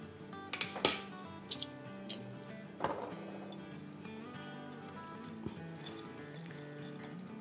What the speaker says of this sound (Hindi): अब इससे एक आध बस हम विस्क कर लेंगे, ज़्यादा नहीं